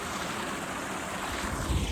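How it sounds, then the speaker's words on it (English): Small river flowing steadily beside a long-distance walking trail, a continuous broadband wash of running water with some wind rumble, fairly close and unbroken, no talking. "Anyway, I found this little river."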